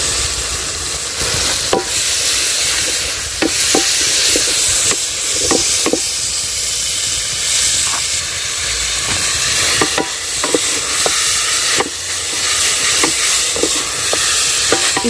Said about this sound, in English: Now that the tomatoes are ready, I'll go ahead and add in our banana flower.